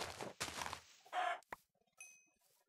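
Chicken in the Minecraft video game gives a few short, quiet clucks among bursts of blocky game noise, with no talking.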